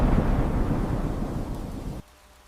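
A heavy rainy-day downpour gives a dense, rumbling wash of noise with a stormy low roar that fades slightly and then cuts off abruptly.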